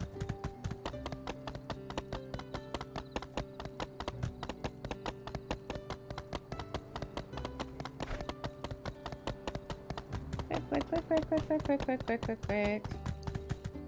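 Horse hooves gallop in the video game My Time at Sandrock, a fast, even clip-clop that runs throughout, close and steady, while a person speaks briefly over it.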